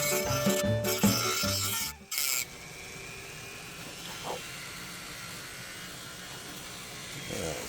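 High-speed rotary tool cutting into a plastic camera case, a thin buzzing whine with scraping bursts at first, then a fainter steady grinding hum, close by and alone.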